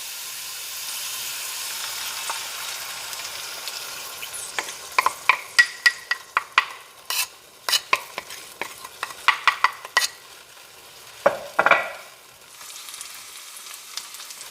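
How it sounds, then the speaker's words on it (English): Egg and potato frying together in a pan, a loud close sizzle with repeated scraping stirs and spatula taps in an uneven rhythm, with no voices. "you can add the egg. And all you do is you add egg to potato"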